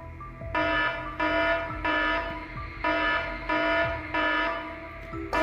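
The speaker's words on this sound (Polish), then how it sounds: "Proszę włączyć alarm!" Bank alarm in the Toca video game, a loud buzzing ring that sounds in repeated bursts of about half a second, with short gaps between them, alone without speech.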